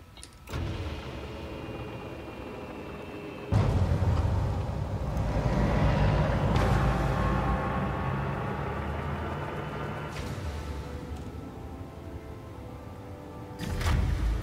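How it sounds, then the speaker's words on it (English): Spaceship engines in Elite: Dangerous after launch with landing gear retracting: a low rumbling hum that rises and swells in stages, with abrupt mechanical shifts and thrust surges, loud and steady with no talking. "Make sure we get the gear up, and you'll hear this engine."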